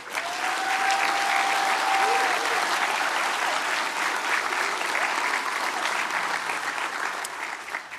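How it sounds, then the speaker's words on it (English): A graduation ceremony audience gives sustained applause, a dense even wash of clapping that holds steady for the whole stretch and starts to thin toward the end. "So one last round of applause, perhaps."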